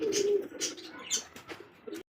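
Soft pigeon coos rise and fall in short bursts, with a few faint chirps mixed in, fairly close and moderately quiet.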